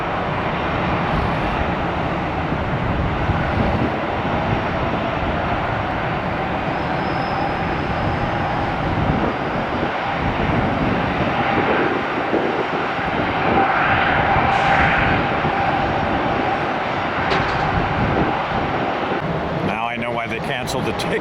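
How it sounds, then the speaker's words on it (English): A Delta Boeing 757 jetliner on short final approach at Tampa delivers a steady, loud, rumbling jet roar that persists throughout, with radio chatter faintly audible over it. "We got a Delta 757 rocket ship on short final."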